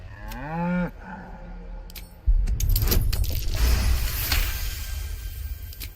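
A cow moos once in a long drawn-out call in the Baldur's Gate 3 video game, loud and close, followed by jangling metallic clinks and a rumbling game soundscape.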